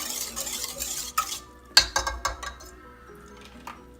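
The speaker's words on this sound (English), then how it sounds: "Now we're going to add the 3 tablespoons of brown sugar, packed brown sugar, and stir that in." A spoon stirs packed brown sugar into a foamed yeast mixture for soft pretzel dough, with soft scraping and a quick run of sharp clinks against the bowl partway through, fairly close and with no talking.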